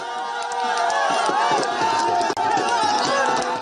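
Football fans crowd Doha city centre for the Qatar 2022 World Cup, a dense steady roar of many voices with shouts and chants rising over one another, loud and continuous with a brief dip midway.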